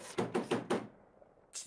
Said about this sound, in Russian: Тебе мама в дверь стучит